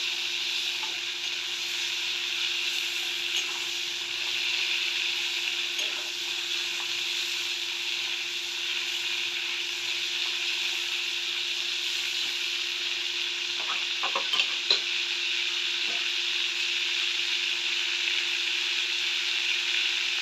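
Prawns fry briefly in hot oil with a continuous, even sizzling hiss close by, plus a few faint clinks from a utensil, with no voices.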